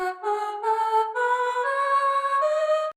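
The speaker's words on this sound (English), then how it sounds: "I'm going to use a vocal lead which sounds like this." A vocal lead synth preset from the Arturia Augmented Voices plugin sings a short sustained melody of several smooth, bright, voice-like notes, played alone and fairly clear.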